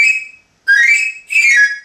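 Papageno's pan flute, a stage prop version for singers, sounding three short breathy, whistle-like high notes in quick succession, the second and third sliding slightly, played alone and close.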